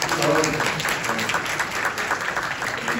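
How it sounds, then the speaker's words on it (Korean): A conference audience in a Seoul convention hall applauds steadily throughout, a dense even wash of clapping with a voice faintly underneath. "박수 한번 부탁드립니다."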